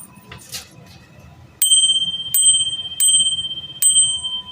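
A bicycle-style bell rings in four sharp, bright dings spaced roughly evenly, each ringing out and decaying, loud and close over faint background murmur.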